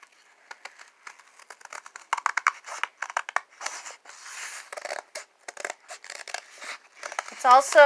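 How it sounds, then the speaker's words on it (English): Scissors snipping and crinkling through paper book pages, crafting flowers from old books: a close, irregular run of short cuts and rustles, with a brief vocal tone near the end. "Step 2, you're going to cut out your book pages."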